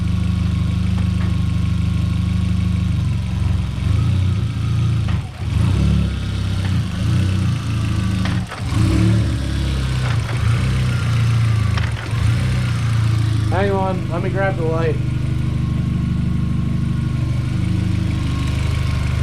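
A VW MK4 Jetta 1.8T engine running steadily at idle with a slight shake, a loud continuous low rumble with a few small surges, and a person briefly speaking nearby.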